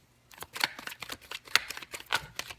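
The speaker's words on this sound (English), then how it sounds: "These cards are so hard to shuffle because they're so thin" Thin tarot cards riffle and snap in quick bursts, crisp ruffling close by with several sharper flicks, no voices.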